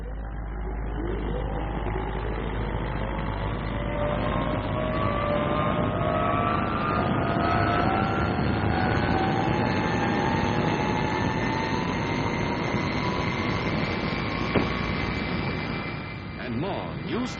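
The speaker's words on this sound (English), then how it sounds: "The mass takeoff that launches a squadron of jets almost simultaneously into the air from a crowded, howling runway" A squadron of military jets roars off a crowded runway in a mass takeoff, engines howling loud and continuous with rising whines as aircraft pass, a dense sustained thunder throughout.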